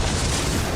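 A short, loud burst of broadband noise, like a booming explosion heard up close, filling the whole clip without a break, from a Minecraft music video.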